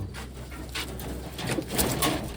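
Taiwan pigeons cooing softly at close range, a few low murmuring calls over a constant low background hum, with no talking.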